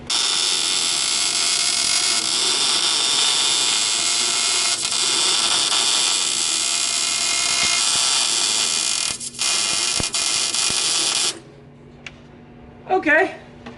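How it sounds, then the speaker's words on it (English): An arc welder lays a weld on the cross member of an offroad wrecker, giving a loud, steady crackling buzz for about eleven seconds with brief breaks before cutting off, then a short voice. "that wasn't a bad weld"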